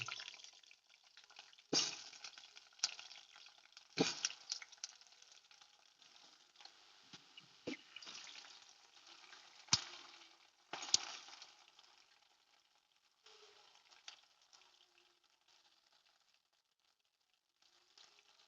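Pieces of pointed gourd fry in hot mustard oil, a faint, steady sizzle broken by occasional sharp spatters and utensil taps, fading quieter toward the end.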